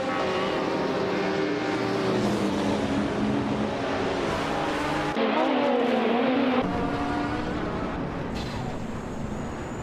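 Racing cars run side by side in a video game race, their engines droning loud and continuously with rising and falling pitch sweeps, and a brief shift in tone midway.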